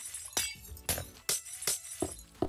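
Glass panes shattering in Minecraft while a house is built, five quick breaks in a steady rhythm, each a crisp crash with a brief tinkling tail.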